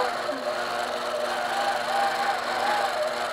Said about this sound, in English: So I'm going to turn my long arm on and try to stitch.